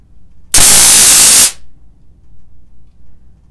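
Stun gun crackling with an electric shock, a single loud harsh burst of buzzing static lasting about a second, abrupt start and stop, then quiet room.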